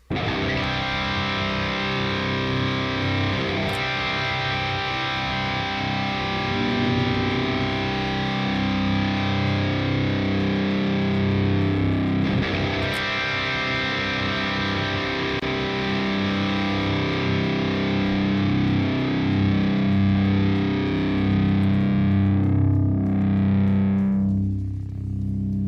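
A heavily distorted electric guitar chord rings out through an effects chain, sustaining thick and loud for over twenty seconds before a noise gate abruptly chokes it off near the end.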